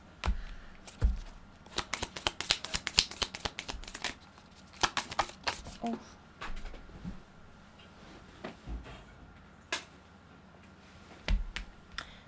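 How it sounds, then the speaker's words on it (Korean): Tarot cards are shuffled and drawn by hand, a flurry of sharp, close card flicks and slaps bunched early, then sparser single snaps and soft slides. "조금 더 보조 카드 열어보도록 할게요."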